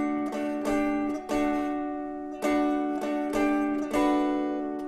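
Electric guitar chugs a rhythm in sustained, ringing chord bursts, with strums landing in a steady repeating pattern, close and fairly loud, alone with no talking.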